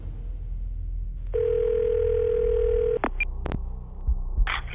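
A telephone call to the police connects: a steady electronic tone holds for about two seconds, then short beeps and clicks follow over a low hum, with no voices.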